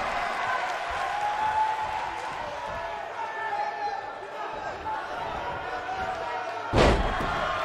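A wrestler slams an opponent onto the ring mat during a wrestling bout, one sharp loud thud near the end standing out above steady crowd noise and a commentator's running play-by-play.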